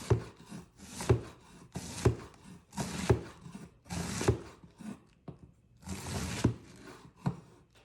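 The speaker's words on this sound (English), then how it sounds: "Chop that up a bit more." A knife chopping purple cabbage on a board, a run of sharp, close, evenly spaced thuds roughly once a second with a brief pause near the end.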